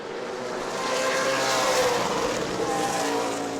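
Stock cars race around New Smyrna Speedway, engines roaring loudly and swelling as the pack passes close by, then easing slightly as the cars pull away.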